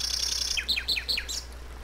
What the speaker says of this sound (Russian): Мы, то есть, слышим громко птиц.